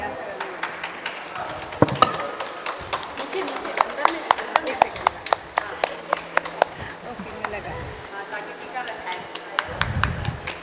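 An audience at a Holi celebration claps in scattered, uneven bursts, with sharp individual claps over someone talking through a PA, the applause faint to moderate.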